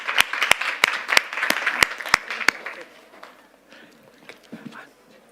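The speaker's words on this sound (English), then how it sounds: "Please give them a very, very big applause." Applause from an audience with several sharp, rhythmic claps standing out, fading after a few seconds into quieter room noise and murmuring.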